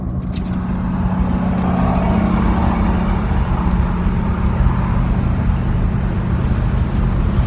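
A car engine drones loud and steady at close range, a continuous low rumble with road noise that holds level for several seconds after a few brief clicks at the start.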